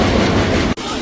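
A passenger train rumbles steadily along the rails, loud and near, with a brief sharp dip in the noise near the end.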